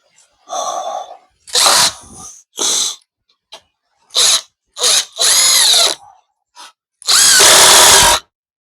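Power drill driving screws into the wood of a horizontal bee hive, a series of short whirring bursts, the last ones longer and louder, separated by quiet pauses, heard close up and alone.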